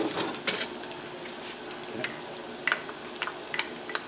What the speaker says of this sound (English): So the first thing I'm going to do is put in my garlic.